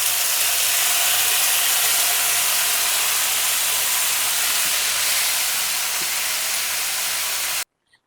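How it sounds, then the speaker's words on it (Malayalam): Reserved stock poured into a hot pan while cooking Yemeni chicken haneeth gives a loud, steady hiss and sizzle that holds for about seven seconds, then cuts off abruptly. "നമ്മൾ മാറ്റി വെച്ചിട്ടുള്ള സ്റ്റോക്ക് കുറച്ച് ഇതിലേക്കൊന്ന് ഒഴിച്ചു കൊടുക്കാം"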